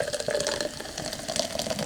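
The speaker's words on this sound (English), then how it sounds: "I'm going to pour a nice glass" Sparkling water is poured into a glass, a close, continuous splashing and fizzing stream lasting a couple of seconds with no voices.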